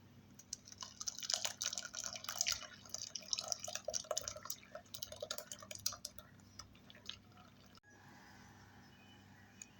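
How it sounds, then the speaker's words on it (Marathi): Fresh pineapple juice strained through a kitchen strainer, with a rapid close patter of drips and trickling liquid for several seconds that then fades to a quiet, faint drip. "आता ज्यूस आपल्याला गाळून घ्यायचा आहे, तर मी त्यासाठी एक गाळण घेतलेली आहे."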